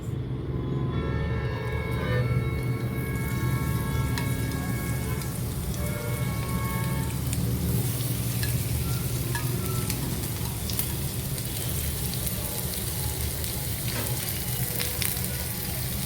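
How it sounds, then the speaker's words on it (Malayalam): Onion and capsicum sautéing in a hot pan for a chicken frankie filling, a steady close sizzle with faint stirring scrapes and no talking. "ഇത് നമുക്ക് ഇതിലേക്ക് ഇട്ട് ഒരു 3 to 4 മിനിറ്റ്സ് വഴറ്റിയെടുക്കാം"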